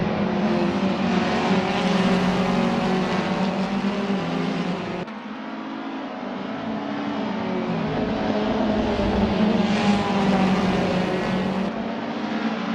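BTCC touring cars racing at Mondello Park in Assetto Corsa, loud engines droning and revving continuously up close, with a brief dip in pitch as gears shift and a car closing in, no talk.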